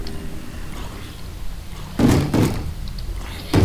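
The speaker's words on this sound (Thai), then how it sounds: "เคาะประตูบ้านทำไมอีกเนี่ย" Knocks land on a house door in Minecraft survival play, two dull thumps close together followed by a third a moment later, over a steady low game ambience.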